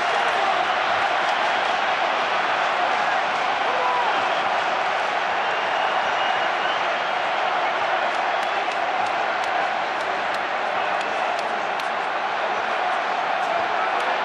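A dense, constant roar from a packed Twickenham stadium crowd at the Harlequins v Leicester Tigers Premiership rugby final as the last scrum nears, loud and unbroken, with a commentator's voice over it.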